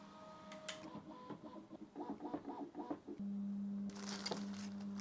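A Prusa MK4 3D printer retries its nozzle cleaning with a close, quiet series of rhythmic stepper-motor whirs and chirps. A steady motor tone follows, then brief rattling movement.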